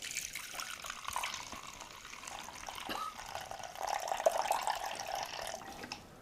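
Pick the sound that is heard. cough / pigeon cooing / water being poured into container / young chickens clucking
water being poured into container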